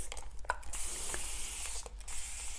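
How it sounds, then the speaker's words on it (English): Hand-pumped misting bottle of plain water being sprayed onto a wooden buffet during repainting, giving a few short, close hissing bursts with faint clicks of the trigger, no talking. "I'm just gonna saturate it with water, regular water in a spray misting bottle."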